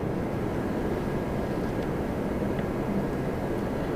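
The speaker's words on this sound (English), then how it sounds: "I love 777s." A Boeing 777 airliner at Toronto Pearson airport gives a steady, broadband jet roar that holds without a break, moderately loud and fairly distant, with no talking.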